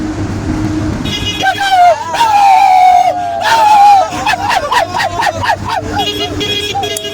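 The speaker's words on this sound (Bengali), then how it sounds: "লরির ড্রাইভারটা আমাদের সঙ্গে মজা করতে করতে আসছিল, হর্ন দিয়ে আমাদেরকে মজা দিচ্ছিল" A lorry driving close behind on the road sounds its horn in long, wavering blasts and then a quick series of short toots, loud over traffic rumble.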